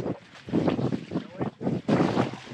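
Sailboat moving under wind power alone with no engine running: gusty wind buffeting the microphone in uneven surges, with rushing water and hull noise beneath, loud and close.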